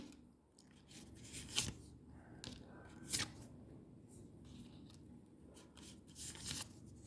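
Tarot cards are shuffled close by in a quiet room, with a few soft riffles and crisp bursts of card flicks between faint rustling, no talking.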